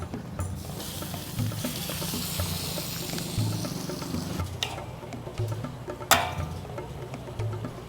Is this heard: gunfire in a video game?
no